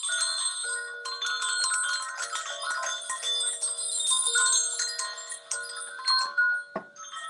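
Several tuned hung bells ring together in a dense shimmering cluster, bright overlapping tones sustaining and layering for about seven seconds, close and fairly loud with no talking.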